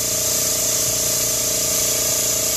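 Air hisses steadily as a car tire is inflated from a compressor hose, a loud continuous broadband rush with an underlying pump hum, close up and unbroken with no talk.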